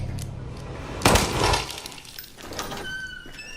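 A gunshot from the survival horror game Resident Evil 7 cracks out sharply near the one-second mark, followed by a brief ringing decay and faint lingering ambience, with no talking.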